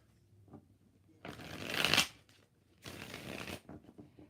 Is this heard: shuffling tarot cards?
yes